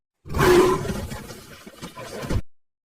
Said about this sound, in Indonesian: dari balik bayangan gedung, seekor singa betina menerkam rusa tersebut